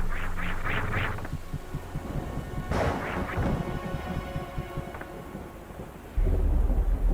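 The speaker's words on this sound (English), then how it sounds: "The lightning and thunder and rain." Thunder cracks and rumbles over steady rain in an SNES game with MSU-1 enhanced audio, with sharp crashes and rolling booms rising through the downpour and a heavy low rumble swelling near the end.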